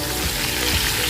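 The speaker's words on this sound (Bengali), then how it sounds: "আলুটা ভাজা হতে থাক" Potatoes frying in a pan with turmeric give a dense, steady sizzle that stays close and even for the whole moment, with no voices.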